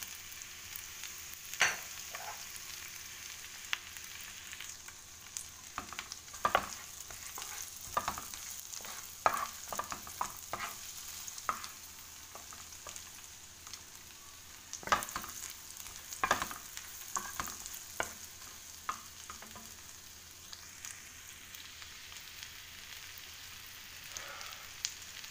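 Onion stirring and frying in a pan, a soft steady sizzle broken by repeated scraping clicks of the spoon at irregular intervals, close and moderately quiet with no talk.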